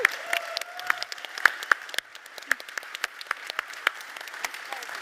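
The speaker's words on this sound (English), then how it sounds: "can we actually have a big round of applause for the AV Center team?" Light, scattered clapping from a modest conference audience thanking the AV team, individual sharp claps standing out over a thin steady patter, fairly faint and distant.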